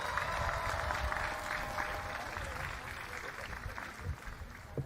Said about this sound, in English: Let's give our Spelman Knights a round of applause